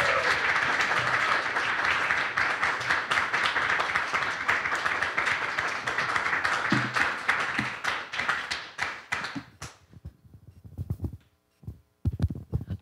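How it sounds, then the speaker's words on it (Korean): Church congregation applauds to welcome a guest preacher at a Sunday service, with dense sustained clapping for about nine seconds that thins into scattered claps and then fades out. "여러분 정말 격렬한 환영의 박수로 맞아주시기 바랍니다"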